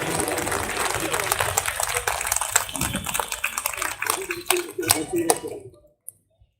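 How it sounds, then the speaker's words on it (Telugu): An audience at a rally to protect the Vizag steel plant applauds steadily, a dense rain of clapping with whistles and shouts that carries on for several seconds before cutting off abruptly. "గట్టిగా చప్పట్లు కొట్టాలండి వీళ్ళందరికీ"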